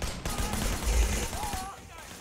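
Rapid gunfire in the video game Sleeping Dogs, a dense continuous burst mixed with game effects under a voice.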